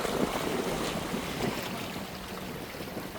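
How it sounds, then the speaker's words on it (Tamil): Racing boats arrive during a boat race, a steady broad rush of water and engine noise with wind buffeting the microphone, fairly loud and continuous throughout. "மற்ற பாருங்க 2வது போட் வந்துட்டுது"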